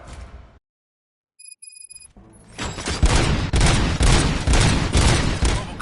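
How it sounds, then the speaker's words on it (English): Bursts of gunfire from the RoboCop: Rogue City video game: after a brief quiet gap with a faint electronic tone, loud rapid shots erupt and continue in a dense, repeating volley. "Gunshots? What's going on?"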